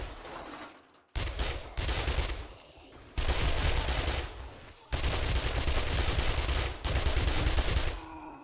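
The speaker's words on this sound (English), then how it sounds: "I forget how good my SMG actually is" Submachine gun bursts in the video game 7 Days to Die: several loud, sustained volleys of rapid automatic fire with short gaps between them.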